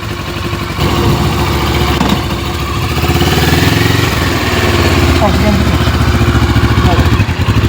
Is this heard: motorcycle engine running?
yes